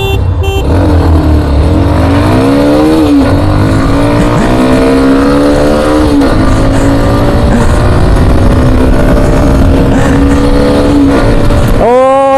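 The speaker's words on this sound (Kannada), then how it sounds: "N S one twenty five race ಮಾಡೋಣ ಬನ್ನಿ" A TVS Xtreme 125R and a Pulsar NS125 motorcycle drag racing, loud engines revving and pulling hard through rising gears with continuous overlapping roar close by, and a fresh rev at the end.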